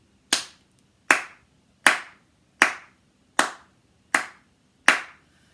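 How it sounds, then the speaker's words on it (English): Hands clapping, seven single sharp claps evenly spaced about three-quarters of a second apart, close and clear against near silence. "So probably the first one would be clapping."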